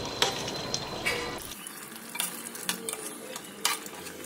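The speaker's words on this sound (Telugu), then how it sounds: "సో చికెన్ మసాలా ఇలా యాడ్ చేసుకున్నాక దీన్ని అయితే ఒకసారి మిక్స్ చేసుకోవాలి" A spoon stirring chicken masala curry in a pan, with scraping and clinking strokes over a soft sizzle, close and fairly loud, repeated at an irregular pace with no talk.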